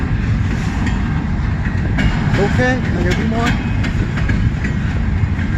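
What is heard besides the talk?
CN double-stack freight train passing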